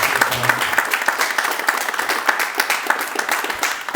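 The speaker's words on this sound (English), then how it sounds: "A big round of applause." Applause from a founders' startup event audience, a short burst of close, lively clapping from a small crowd with a few faint voices mixed in.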